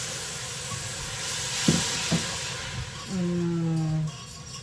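Loud steady sizzle and hiss of onions hitting a hot pan with browning ginger for Asian-style short ribs, close and continuous, with a couple of soft knocks and a brief tonal squeal near the end.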